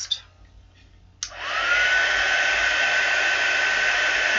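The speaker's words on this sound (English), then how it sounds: "So heat tool next." An embossing heat tool blows steadily while warming a handmade card, a constant close whooshing roar that starts suddenly after a quiet moment and holds at full strength to the end.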